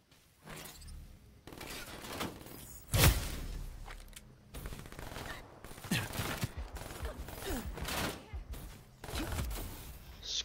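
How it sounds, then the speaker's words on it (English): Muffled gunfire from a silenced sniper rifle in a shooter video game, with a sharp report standing out near the start and other bursts and whooshes scattered through busy game audio. "That'll be my silenced sniper rifle"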